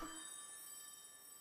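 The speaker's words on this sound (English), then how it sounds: "Someone's calling my Zelda phone" A faint, sustained ringing chime with steady tonal overtones sounds in the video game Skyward Sword HD, fading slowly and heard alone without talk.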